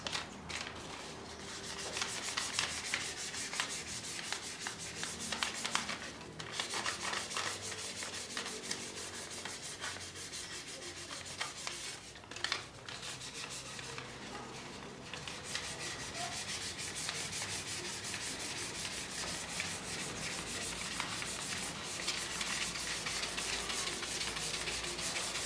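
Sandpaper rubs back and forth over a surface to smooth it and clear off mold, a continuous close scratchy rasping with a few brief pauses, faint overall and without talk.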